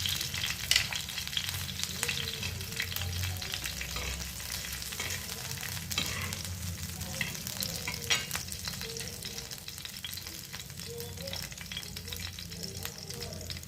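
Garlic tossed into a hot pan with the gas just switched off, giving a continuous close sizzle and crackle overlaid with frequent scraping and tapping of a stirring spoon, steady in level throughout.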